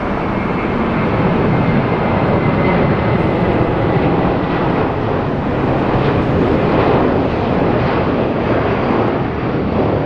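A United airliner at Los Angeles airport produces a steady, broad engine roar that holds constant throughout, loud and continuous with no voices.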